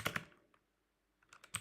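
A few quick computer keyboard keystrokes, close and fairly quiet, with a short pause between two clusters of taps.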